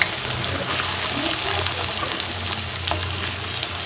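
Chopped onions frying in a pan for a liver dish, a close continuous sizzle with scattered pops and crackles and occasional stirring scrapes, no voices.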